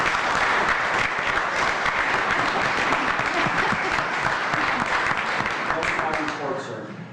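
A crowd at a village board meeting applauds for John Robinson, dense steady clapping filling the room for several seconds before tapering off at the end, with voices mixed in.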